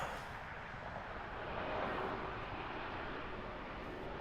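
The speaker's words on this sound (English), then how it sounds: "next up, a Embraer E195 from San Francisco" Embraer E195 airliner on approach to land at Toronto Pearson, a steady broadband jet roar that holds through the whole stretch and swells slightly midway, with no voices.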